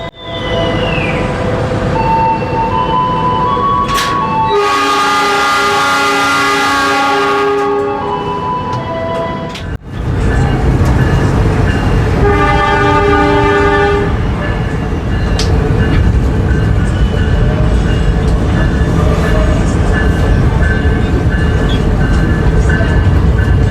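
The KA Cikuray passenger train runs loudly nearby with a sustained rumble, and a long blast of its horn sounds early on, followed by more clattering rail noise and a second tonal passage.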